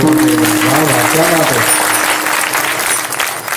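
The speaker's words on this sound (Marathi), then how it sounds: "सर्व टाळकरी महाराज मंडळींकरता टाळी वाजवा" Audience clapping for the cymbal-playing performers at a devotional kirtan festival, a dense wash of applause mixed with voices and a sustained tonal sound throughout.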